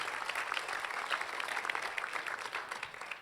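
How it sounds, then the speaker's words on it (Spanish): A church congregation applauding together, a dense, even wash of clapping held at a moderate, fairly distant level with no clear breaks. "Damos ese aplauso al Señor"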